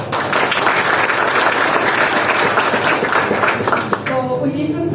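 Loud, sustained applause from the audience at a university book launch and award event: dense clapping fills most of the stretch, then it fades as a voice begins speaking near the end.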